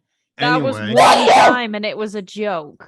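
A single sharp sneeze bursts out in the middle of a casual indoor conversation between friends, overlapping their voices as they keep talking.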